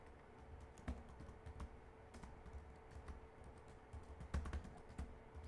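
Typing on a computer keyboard, a quiet, close run of irregular key clicks with occasional louder taps, heard alone without talk.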